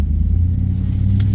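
A 2006 Chevrolet truck driving off from a parking lot, a loud close engine rumble with a steady low drone as it pulls away.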